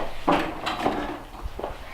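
A door is opened nearby with a handful of close clunks and rattles from the latch and handle, and no one speaks.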